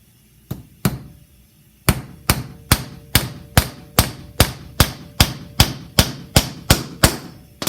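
Hammer blows drive a nail into a wooden desktop organizer, one or two early strikes, a pause, then about fourteen sharp, evenly paced raps, close and loud, with no voices.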